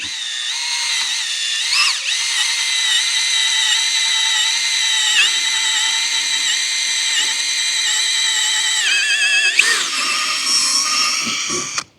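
A power drill bores through the layered material of a roof, a loud, steady high whine with harmonic overtones that dips and catches sharply a few times as the bit breaks through each layer, then winds down.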